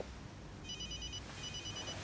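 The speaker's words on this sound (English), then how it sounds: "See, your phone's ringing now." A mobile phone rings faintly in two short bursts of electronic trilling, heard at a distance in a quiet indoor room with no talking.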